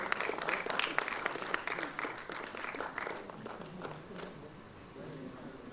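A seated audience at an educational foundation event applauds a chief guest, many hands clapping in a lively burst near the start that gradually thins and fades, with faint voices underneath.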